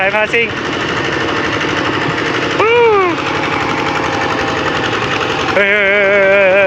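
Farm tractor engine running close by with a rough, steady mechanical chug, while people talk loudly over it.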